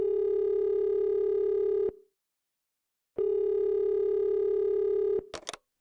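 Placing a phone call: a steady telephone tone sounds for about two seconds, stops, then returns for another two seconds before breaking off into a few quick clicks.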